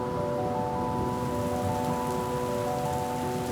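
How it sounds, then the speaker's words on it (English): Steady rain pours down over a city in an even, continuous hiss, with no voices or other distinct sounds standing out. "the rain begins to fall."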